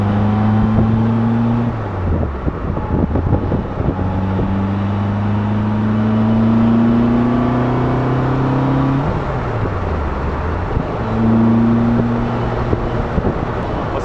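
A lightweight Caterham sports car of about 620 kg drives toward Montlhéry, its engine droning close and loud, climbing through gears with repeated rising revs, a brief lift-off dip and renewed acceleration.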